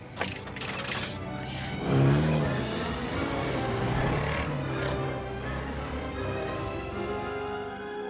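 A steady flying car engine drone with whirring mechanical tones fills the whole stretch, rising briefly in a revving swell, with no talk over it.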